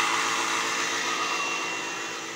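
A household washing machine fills its drum with a loud, steady rushing hiss that fades slightly toward the end, with no voices.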